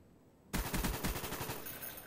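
Rapid automatic gunfire from the Call of Duty Black Ops video game bursts in suddenly after a quiet start, a dense rattling volley that continues loudly to the end.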